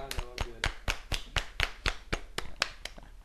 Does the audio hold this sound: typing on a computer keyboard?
no